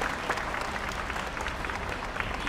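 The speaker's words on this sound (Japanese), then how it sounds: "とても温かい拍手をいただきましたので" A concert audience at a military band performance fills the hall with warm, dense applause, many hands clapping in a steady continuous wash throughout.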